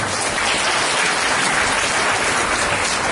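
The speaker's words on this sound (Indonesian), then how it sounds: "Sampai kita tepuk tangan untuk kita semua." A large audience at a formal gathering applauding continuously, a dense, loud, even wash of clapping with no gaps throughout.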